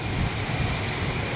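Heavy hurricane rain in Palm Bay, Florida pours down as a continuous loud hiss and roar with no breaks.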